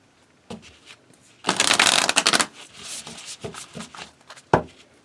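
Oracle card deck being riffled and bridged, a dense burst of crisp flicking lasting about a second, then softer scattered card handling and taps, close and fairly loud with no talk.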